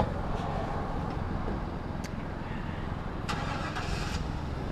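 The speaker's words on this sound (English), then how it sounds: "That truck just turned on his engine" A truck engine turns over and starts while a cyclist waits nearby during a weekend bike commute, a low rumble heard under steady wind and road noise, with brief sharper bursts at moderate distance.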